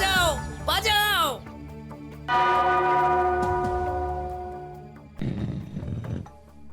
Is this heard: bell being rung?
yes